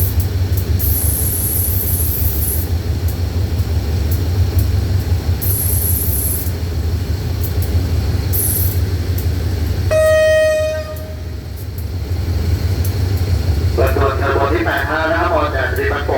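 Express passenger train no. 85 with a parcel van rolls steadily past, a continuous loud rumble of wheels on rail, with a short horn-like tone and a distant announcement over a loudspeaker near the end.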